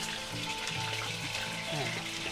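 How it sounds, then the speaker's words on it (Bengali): Chicken fries in hot olive oil, a dense steady sizzle heard close up over a brief stretch, with a voice speaking underneath. "আমাদের তেলটা গরম হয়ে গেছে, আমি এখন চিকেনটা একটু ভেজে নিব।"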